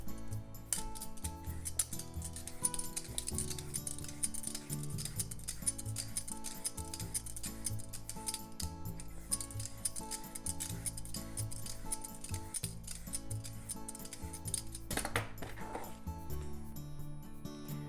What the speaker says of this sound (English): Let's cut the daikon radish into very thin strips, like needle thin strips. So let's peel the skin.